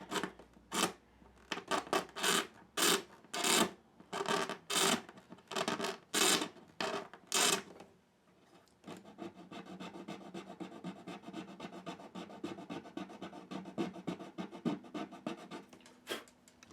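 Saddle of a 1974 Larrivee guitar being scraped back by hand, first in about a dozen distinct rhythmic strokes, then in a rapid continuous rasping scrape, close and clear with no talk.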